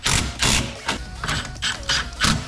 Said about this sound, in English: Next we can tighten up the power steering or the rack and pinion bolts